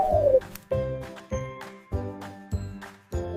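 A pigeon coos in a regular series of about six soft, rounded calls, each pulse separated by a short pause, near and fairly quiet.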